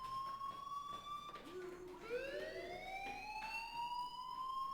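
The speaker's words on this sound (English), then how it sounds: "do you hear that fire alarm?" An alarm wails in the video game Life Is Strange as a steady electronic tone that dips and then sweeps back up, ringing continuously and fairly loud across the whole stretch without anyone talking over it.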